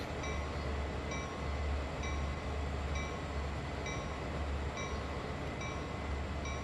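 Train running in Train Sim World on PS4, with a steady rumble and regular clicking beats over the rails, each paired with a faint high chime, continuous and close.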